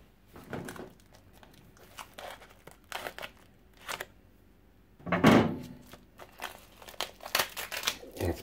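Plastic packaging on a chocolate steamed pudding crinkles and rustles in several bursts, with a louder crunching scissor cut in the middle, close and clear with no talking.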